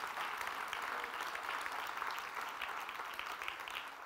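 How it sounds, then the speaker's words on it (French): Church audience applauding loudly during a talk on testimony, a steady, dense, sustained wash of clapping with no break. "Est-ce qu'on peut les applaudir bien fort s'il vous plaît?"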